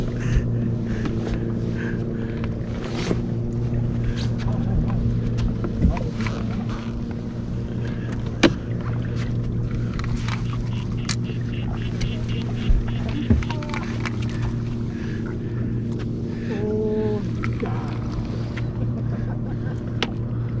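A steady motorboat engine drone runs throughout with water splash and occasional thumps, voices faintly heard now and then.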